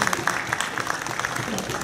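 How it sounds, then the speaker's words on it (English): An audience gives a brief round of light, polite golf-clap applause at a live musical theatre show, a scattering of soft, quick claps that stays modest and steady for under two seconds. "give me like a nice, light, polite golf clap"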